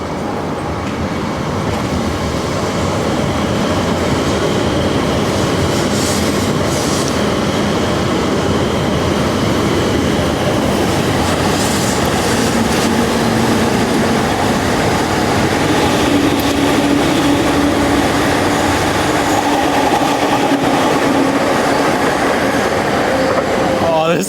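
An E7 series Hayabusa shinkansen passes at a Tokyo trackside viewing spot, its steady, loud rushing roar of wheels and air holding for over twenty seconds with faint tonal whine.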